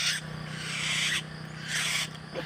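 Bird crying at night under a white light, high harsh screeching calls in two drawn-out bursts over a steady low electrical hum.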